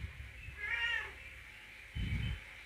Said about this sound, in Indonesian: Ini ada kucing gue nakal, berisik, maaf teman-teman.